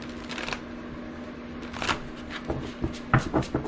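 Tarot cards being shuffled and drawn, a run of soft papery riffles and flicks at close range, with a few sharper slaps and snaps of cards toward the end, no talking.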